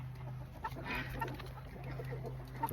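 An Americana rooster, a big, mean bird of almost 10 pounds kept on a homestead, gives a few soft clucks close by over a low steady hum and light background noise.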